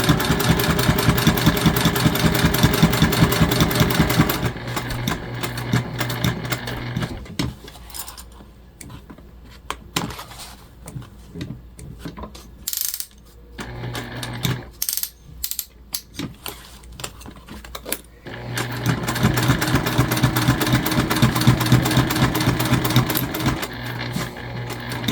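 A sewing machine stitches a gift bag in loud, rapid rattling runs at the start and end, broken in the middle by a quieter stretch of scattered clicks and handling noises.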